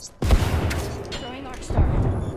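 Frag grenade exploding in the video game Apex Legends: a loud, close boom bursts out, followed by a rumbling tail and a second heavy blast about a second and a half later.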